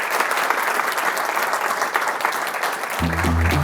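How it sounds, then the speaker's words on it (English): Audience applause at a keynote talk at a RabbitMQ software conference in 2022: a steady, dense burst of clapping from a large crowd that holds loud throughout, with a low tonal sound entering near the end. "please give a round of applause for Lukas."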